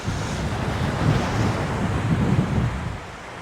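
Strong wind buffets the microphone while sea waves roll and wash continuously on Mafushi Island in the Maldives, a loud, unbroken roar with surging low swells.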